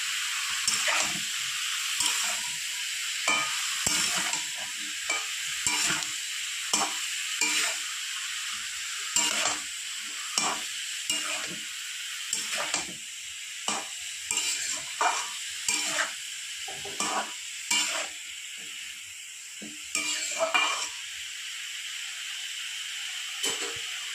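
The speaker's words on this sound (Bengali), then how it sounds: "ভালো করে নুন আর হলুদ দিয়ে মিশিয়ে কষিয়ে নেব।" Bottle gourd for a shrimp ghonto is stir-fried with salt and turmeric, giving a steady hiss of sizzling under a regular beat of spatula scrapes and knocks against the pan, close up with no talking.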